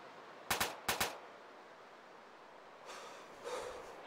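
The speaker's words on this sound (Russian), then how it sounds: "По камушкам стреляет." Gunfire in the military shooter ArmA 2 with the ACE mod: two sharp, close bursts in quick succession, then quiet, followed by softer, more distant shots near the end.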